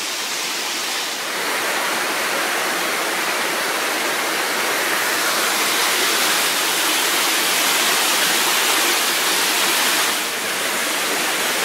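A waterfall beside a railway trestle roars in a loud, steady, unbroken rush of falling water close by, with only slight swells in intensity and no talking.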